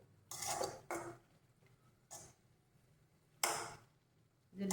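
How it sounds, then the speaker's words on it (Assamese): A metal lid clanks onto a pot of boiled chicken, with several sharp clattering knocks separated by short quiet gaps, close and fairly loud. "ঢাকোন মাৰি দিম।"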